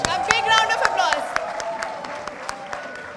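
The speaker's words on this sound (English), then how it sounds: "A big round of applause." A crowd claps and cheers at a Model UN closing ceremony, sharp hand claps scattered over a fading wash of applause and voices.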